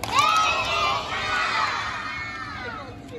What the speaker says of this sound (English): I want everybody clap one time and say baby talk.